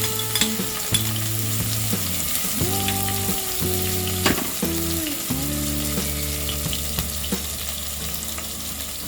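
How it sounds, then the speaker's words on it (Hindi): Cumin seeds, carom seeds and finely chopped green chilies crackle in hot oil, a loud steady sizzle with tonal sounds running beneath, no talking. "अब हम इसमें डालेंगे ये 1 टीस्पून जीरा, 1/2 टीस्पून अजवाइन, 3 ग्रीन चिलीज फाइनली चॉप्ड"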